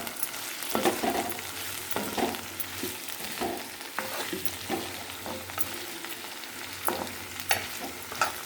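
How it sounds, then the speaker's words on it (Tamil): Vegetables for vegetable rice sizzle and sauté in a pan, with repeated stirring scrapes at irregular intervals over a steady low hum, close by. "நல்லா எல்லாம் ஒன்று சேர்த்து நல்லா வதக்கிக்கோ"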